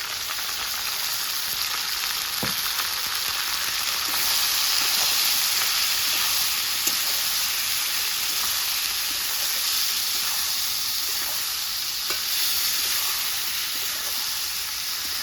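Fish frying in a pan with salt, turmeric, ground cumin, green chilli and ginger pastes, a steady broad sizzle and hiss throughout with occasional faint stirring clicks, no speech.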